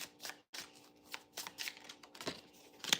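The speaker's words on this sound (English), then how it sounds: "These cards are very slippery. I'm trying not to shuffle them everywhere." Tarot cards being shuffled in quick riffling bursts, crisp papery flutters repeating several times close by, with brief pauses between.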